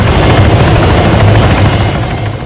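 Helicopter flying in the video game ArmA 3, a loud, continuous rotor and engine roar with a dense low-end thrum, steady throughout and no talk over it.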